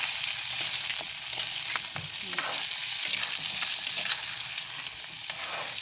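Crab stirred while it fries in a pan, a loud constant hiss and sizzle with intermittent scrapes and knocks from stirring, close by, no talk.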